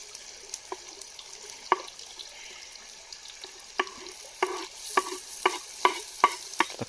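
Onion and green chili frying in a pan outdoors, a steady soft sizzle with repeated sharp scraping stir strokes that grow more frequent toward the end, no voices.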